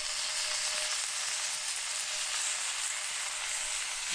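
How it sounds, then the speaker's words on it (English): Bacon sizzling in a pan over a camp stove outdoors among red rocks, a steady bright crackling hiss that holds evenly close up for the whole stretch with no talk. "let's get some bacon on here"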